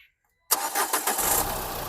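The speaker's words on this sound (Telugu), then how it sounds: "సింగిల్ సెల్ఫ్లో బండి స్టార్ట్ అవుతుంది" After a brief silence, the engine of a 2016 Renault Duster Explore Edition cranks and catches on a single start. It settles into a steady, close idle with no voices.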